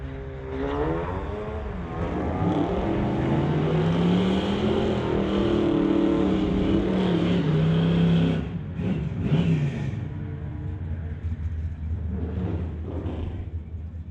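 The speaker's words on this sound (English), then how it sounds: "racing Steve Baskerville in this 2-liter turbo Volkswagen Golf" A 2-liter turbo Volkswagen Golf R drag races down a strip, its engine revving hard and climbing in pitch for several seconds before the loud run cuts off and fades into quieter background noise.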